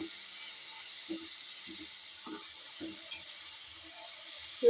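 Leafy greens fry in a pan with garlic and chilli, giving a steady soft sizzling hiss broken by intermittent stirring clacks from a spatula, close and quiet.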